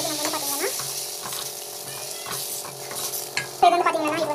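Tamarind water bubbles and sizzles in a cooking pan while a spoon stirs and scrapes, followed by a louder splash and hiss near the end.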